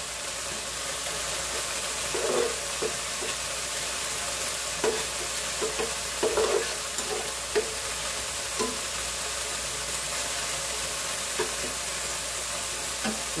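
Cabbage cooks in a pan with a steady, loud sizzle and hiss throughout, broken by occasional scraping and tapping of a utensil stirring it, close up with no talk.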